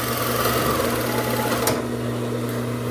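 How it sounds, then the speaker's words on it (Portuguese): A coverstitch machine (galoneira) hums continuously while sewing folded fabric for fitness-wear shorts, a steady close mechanical whir with a slight change in tone partway through. "só vou fazer passar a costura ali da galoneira, dobrando o tecido e fazendo a costura"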